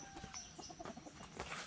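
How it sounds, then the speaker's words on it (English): Chickens cluck softly on a rural Philippine province homestead beside a bamboo hut, a few scattered short clucks at moderate distance over steady outdoor background noise. "You can see he has cool chickens."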